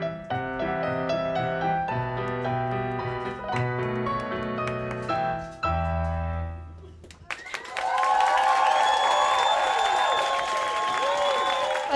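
Music plays for about seven seconds, then an audience breaks into loud applause with cheering and shrill whistles after a clown performance, sustained to the end.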